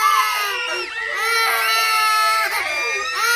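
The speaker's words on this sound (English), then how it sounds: "surrounded by a bunch of screaming, crying children all day" Several small children cry and scream at once, a loud, continuous, shrill wailing with overlapping sobbing voices and rising and falling pitch throughout.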